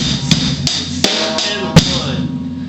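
Drum kit playing an odd-time 7/8 groove, with sharp hits landing at uneven intervals over a ringing cymbal wash, close and fairly loud, with no talking.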